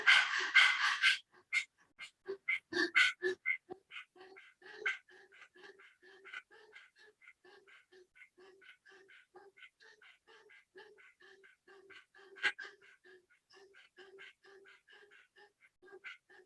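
Human breathing in rapid dog-like panting with the tongue out during Swan Pranayama in a kneeling Vajrasana pose, a fast steady rhythm of short breaths, close and soft, with a few louder gasps at the start.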